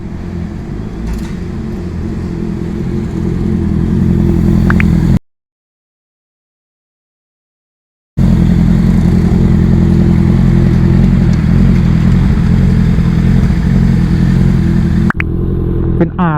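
A Honda CBR650R inline-four motorcycle with a titanium JP exhaust revs loudly and steadily up close, broken by a brief silent gap partway through, with a faint clatter near the end and no talking.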